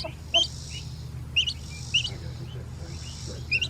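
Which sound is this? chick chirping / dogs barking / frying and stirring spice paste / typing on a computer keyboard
chick chirping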